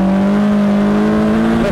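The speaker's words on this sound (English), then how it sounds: "I'm sure you all could hear that was a little bit of tire spin all the way through first gear." A Polaris Slingshot Roush Edition with a manual gearbox accelerates hard through first gear with some tire spin, its engine note a loud, steady rising drone close to the microphone.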